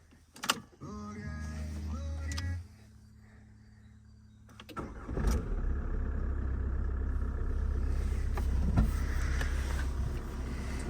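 On a frosty morning, a parked car gives a few mechanical clicks and whirs, then its engine turns over and catches. It settles into a steady low warm-up rumble nearby.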